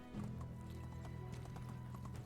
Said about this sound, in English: We have a horse though